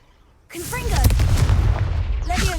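Confringo blasting spell in Hogwarts Legacy, a sudden loud boom that erupts into a roaring, crackling burst and sustains for about two seconds before a second flare at the end.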